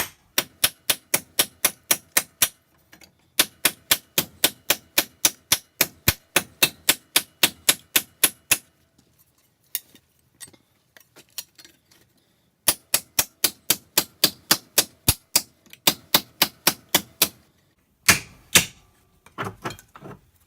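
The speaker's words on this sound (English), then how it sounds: "So we're going to put our dent into our anvil, give it a few hits, work it through that corner." A body hammer strikes dented metal on an anvil in fast, regular runs of sharp, ringing blows. Three long volleys are broken by a few scattered single taps and short pauses.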